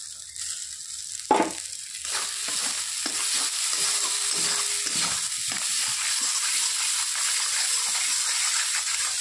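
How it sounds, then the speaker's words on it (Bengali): Spices frying in a pan for a taro and fish curry make a close, steady sizzle, with scraping stirs and a sharp knock near the start, and no voice. "মশলা ভাজা হয়ে গেছে।"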